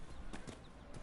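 Horse hooves clip-clop in the Dragon Age video game, a brief run of a few hoofbeats over a steady, dense game soundscape.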